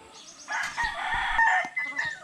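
A sick rooster with undigested food in it crows once, a drawn-out strained call at moderate distance, with some faint scuffling and background clucking.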